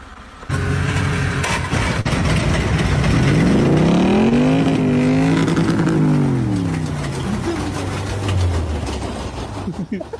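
Cars race down a rented 1,500-metre runway, engines revving hard and rising then falling in pitch as they accelerate and sweep past, loud and close.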